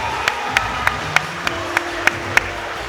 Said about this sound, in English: I see you clapping nice there, Raki.